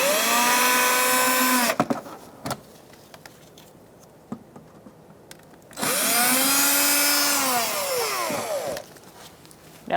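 A power drill with a Phillips head bit backs screws out of a 2014-2019 Kia Soul 1.6L L4 engine cooling fan assembly. Two loud whirring bursts, each rising and falling in pitch, are separated by a quiet gap with light clicks.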